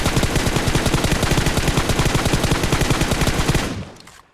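Rapid automatic gunfire in the mobile game Battlegrounds Mobile India during a practice drill, a dense, steady stream of loud shots for several seconds before it abruptly stops and fades.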